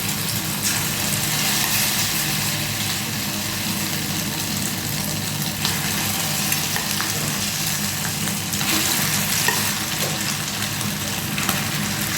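Chicken pieces for chili chicken fry in hot oil, a loud, continuous sizzle and crackle running the whole time with occasional small pops, close and steady, with no talking.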